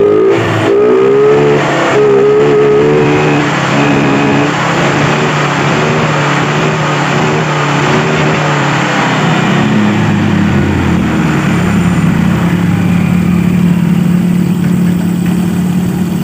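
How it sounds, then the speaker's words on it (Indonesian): A Honda Vario 125 scooter engine revs hard at high rpm, a loud, steady mechanical drone that holds for the full stretch with a rising pitch partway through, running alone with no talking. "Akselerasi pada putaran atas ini normal."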